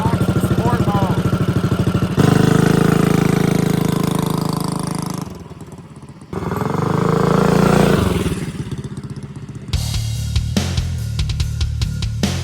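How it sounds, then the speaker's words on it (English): A mini bike's small engine with a custom baffled exhaust revs and idles loud and close, rising and falling through several throttle blips, then settles into a choppy, rapid idle. "they each have custom exhaust systems that have various baffles, and while those are louder, they are custom tuned to make some fantastic sounds"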